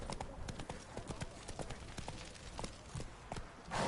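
Roach the horse walking in The Witcher 3, hooves clip-clopping in a steady close rhythm throughout, with some game sound and a louder burst at the very end.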